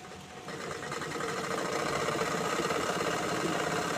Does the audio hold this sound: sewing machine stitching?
yes